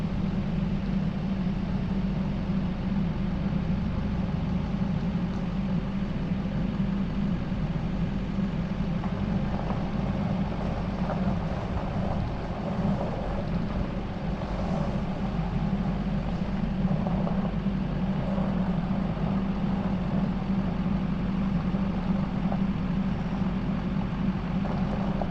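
Heavy machinery or vehicle engine rumbling steadily while driving through a homestead work yard, a continuous low drone with broadband noise throughout and no clear speech.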